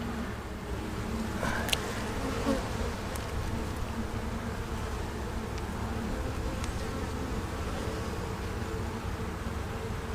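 Honeybees buzzing in an opened hive stocked with pollen, bee bread and fresh larvae, a dense, steady close-up hum that carries on unbroken throughout.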